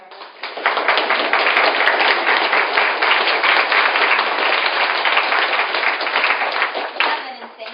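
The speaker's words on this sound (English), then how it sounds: "let's give a round of applause for our" Panel audience giving a round of applause, many hands clapping in a dense, even burst that swells in, holds for several seconds and tapers off, sounding band-limited as if through a room microphone.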